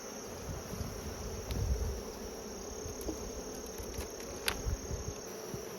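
Honey bees buzzing around an open hive during a hive check, a soft steady droning hum close by with occasional faint clicks and rustles.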